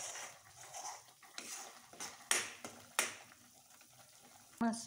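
Spice masala for a fish fry cooks in a pan, stirred with a few scraping clinks and soft knocks over a faint, low sizzle. It is fairly quiet and there is no talking.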